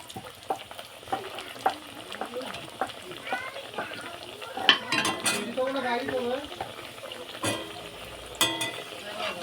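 A paratha frying in hot oil in a kadai, with a steady crackling sizzle, close by, broken by scraping and clinking from turning it, while someone talks over it at times.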